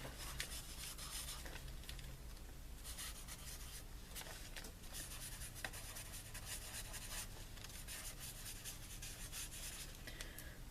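Pen or marker scratching and rubbing across a journal page coated with acrylic paint and spray inks, faint close strokes in irregular bursts without talk.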